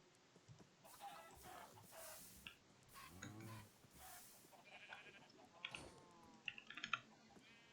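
Minecraft sheep and other farm animals bleating and clucking in a modded game world, several short calls scattered over a quiet background at moderate distance.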